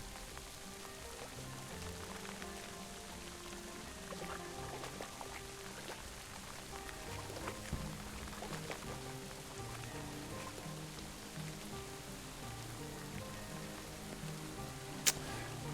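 Steady video-game rain in Kingdom Come: Deliverance II pattering on a surface, a continuous soft hiss with scattered drops and a faint background tone, no voices.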